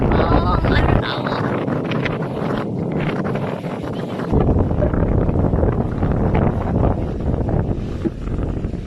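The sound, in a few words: strong wind on a yacht at Dubai Marina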